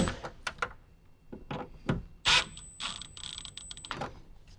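A ratchet tightens speaker screws inside a Toyota 4Runner, giving short irregular bursts of clicking and rasping with brief pauses between them, close and fairly quiet, with faint mechanical rattles.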